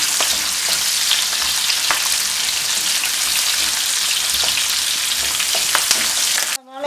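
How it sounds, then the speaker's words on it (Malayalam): Chopped onion fries in oil left over from frying chicken for chilli chicken, a loud, steady sizzle with scattered stirring clicks that stops abruptly at the end. "നമ്മൾ അരിഞ്ഞു വെച്ചിരിക്കുന്ന സവാള ഇതിലേക്കിടാം."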